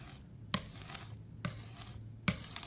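Red printmaking ink scraped up off a slab, heard as a few short, close rasping scrapes spaced about a second apart with quiet pauses between.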